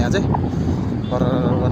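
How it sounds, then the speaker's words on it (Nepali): Strong wind gusts across an exposed, precarious spot above a river, making a continuous heavy rumbling roar and buffeting against the microphone, with a faint voice underneath. "यहाँ त आवाज सुन्नु सक्नुहुन्छ हजुरहरूले हावा एकदम ठुलो चलिरहेको छ"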